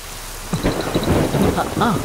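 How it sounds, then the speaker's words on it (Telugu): A thunderstorm with steady rain pouring down and rumbling thunder rolling in, loud and close, with no voices. "ఉరుములు కూడా బాగా ఉరుముతున్నాయి"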